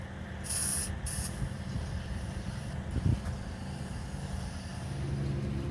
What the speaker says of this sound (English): I'm going to spray this because I didn't get a chance to do the decks or anything